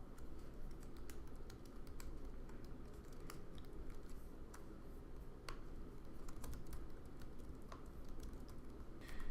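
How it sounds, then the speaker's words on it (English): Steady typing on a computer keyboard, quick light clicks in an uneven rhythm, fairly quiet and close, with no talk. "Type a headline and use the editor to create content in the news item."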